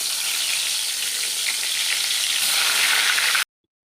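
Vegetables fry in hot oil in a wok for a home-cooked Bengali meal, giving a loud, continuous sizzle and crackle that holds steady, then cuts off abruptly.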